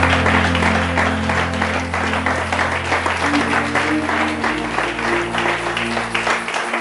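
A church congregation applauds continuously, a steady dense wash of clapping with a sustained hum or organ-like tone underneath, fairly loud and unbroken throughout.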